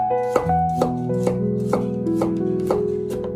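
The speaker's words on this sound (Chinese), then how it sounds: "给它切成蒜片" A kitchen knife slices peeled garlic cloves into thin slices on a cutting board, giving steady evenly spaced taps about twice a second, heard close beneath continuous background music.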